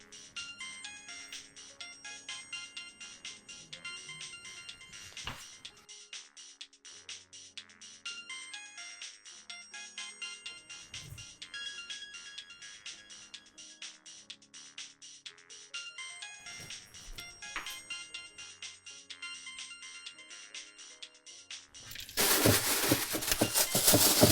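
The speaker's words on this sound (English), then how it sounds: "Whose phone is that?" A mobile phone ringtone plays a repeating electronic melody for a long stretch, steady and moderately loud, before a burst of broadband noise takes over at the very end.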